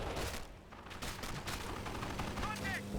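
Rapid gunfire from a strafing run in the Company of Heroes video game, bursts of shots crackling over busy battle noise, with a faint whistling sweep near the end.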